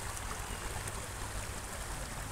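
Rushing water from a full stream runs steadily and close, a constant broad wash with no pauses.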